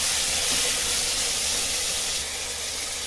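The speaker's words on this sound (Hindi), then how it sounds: "ये अदरक लहसुन का पेस्ट डालेंगे। अभी इसको अच्छे से भूनेंगे" Ginger-garlic paste fries in a pan for a methi gosht curry, giving a loud, continuous, steady sizzle and hiss with no talking.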